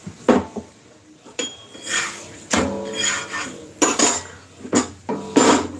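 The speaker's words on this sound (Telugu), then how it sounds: "నేను స్టీల్ ప్లేట్ మీద చేస్తానండి ఏం పీట వాడను స్టీల్ ప్లేట్ మీద చేస్తా అంటే కర్రతోనే లేండి" Chapati dough being rolled with a wooden rolling pin on a steel plate, with repeated close knocks and rubbing clatters of wood on metal in an uneven rhythm.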